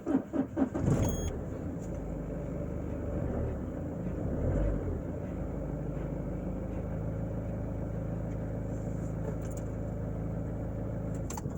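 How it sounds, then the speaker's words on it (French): A Citroën Xsara Picasso engine cranks and catches, then settles into a steady, close idle rumble that continues on its own. "Donc là, je vais démarrer la voiture."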